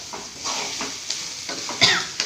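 Ivy gourd (kovakkai) frying in a pan of oil for a home lunch, a steady sizzle with soft scraping stirs and a few sharper clinks of a spatula, close and alone.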